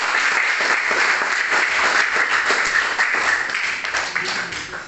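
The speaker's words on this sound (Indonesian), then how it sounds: "Kita beri aplaus kepada kelompok" Classroom audience applauding a student presentation group, a dense, steady burst of many hands clapping at close range that holds for about five seconds before thinning slightly at the end.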